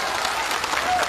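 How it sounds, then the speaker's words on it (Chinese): A studio crowd breaks into brief, dense applause as a comic performer invites the clapping before a Peking opera bit. A voice comes through the clapping. "先给我鼓鼓掌。"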